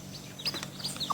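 A mother hen with nine small chicks, giving soft clucks mixed with scattered high, thin peeps and chirps at close range, with a steady low background hum and no talking.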